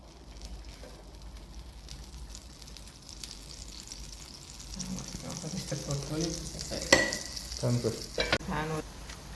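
Butter melting on a hot chapati in an overheated pan gives a low, steady sizzle with scraping turns, growing busier toward the end, where a faint voice briefly comes in.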